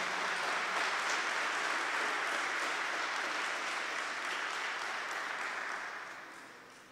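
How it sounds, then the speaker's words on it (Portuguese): A congregation applauds Our Lady at a religious talk in a sustained, fairly distant wash of clapping that holds steady and then fades out toward the end. "Pode aplaudir Nossa Senhora"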